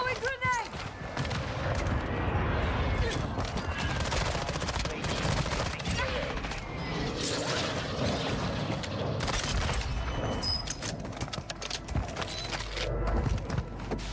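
Gunfire in the video game Warzone 2.0: rapid, loud bursts of shots and sharp cracks fill the whole stretch, with a voice speaking over the action.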